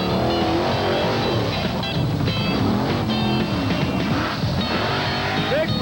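Bigfoot number 1, the original monster truck built about 15 years earlier, drives an obstacle course at a 1989 Indianapolis off-road jamboree, its engine roaring continuously and loud under crowd noise and a blurred announcer voice.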